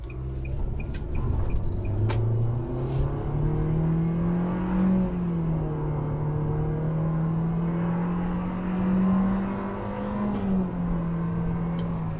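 A 2021 Nissan Kicks small city car accelerates on a road up to about 50 mph, heard from inside the cabin. A steady engine drone climbs and shifts in pitch throughout, with no talking.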